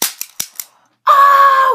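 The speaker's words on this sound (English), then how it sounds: "So that is the cap gun, guys." A toy cap gun fires several sharp, quick pops close by, then a sustained loud ringing squeal follows on its own.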